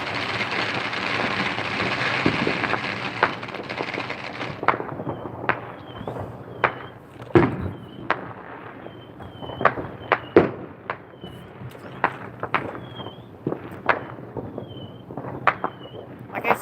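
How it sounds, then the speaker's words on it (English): Illegal Fourth of July fireworks heard from a front yard in Las Vegas, Nevada: a dense crackling barrage at first, then scattered sharp bangs and pops from near and far, with occasional distant whistles. "All these illegal fireworks come from Nye County."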